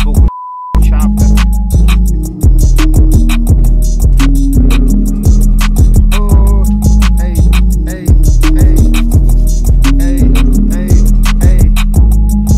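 Chopped vocal-sample melody played over an 808 hip-hop beat made in Logic Pro X, with short stuttering pitched vocal slices riding over heavy sub bass and tight rhythmic drum hits, loud and continuous with no talking.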